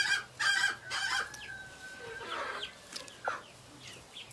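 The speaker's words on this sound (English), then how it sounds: "our rooster that's outside the door" A rooster crows nearby outside a farm door, a long drawn-out call, with shorter clucks and chicken noises around it.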